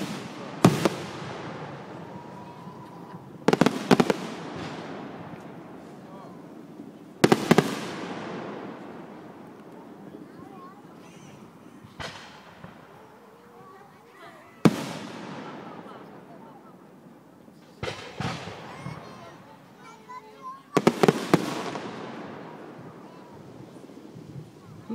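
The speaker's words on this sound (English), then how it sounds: "Oh, you hear the other fireworks in the background?" Fireworks boom in the distance, roughly eight separate bursts with crackling tails and long fading echoes, spread across a windy outdoor scene with people talking quietly between blasts.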